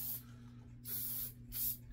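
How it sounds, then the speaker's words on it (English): Lubricant spray hisses onto an AR-15 bolt carrier group in three short close bursts, each about a third of a second, separated by brief pauses over a faint steady hum. "I liberally spray the entire bolt, the cam, the firing pin, and my entire bolt carrier."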